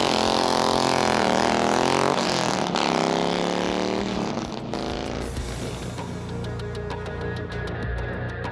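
A stock-internals Harley-Davidson Road King V-twin revs up and holds a loud, steady drone close by, with its pitch rising and shifting midway, alone without any talk.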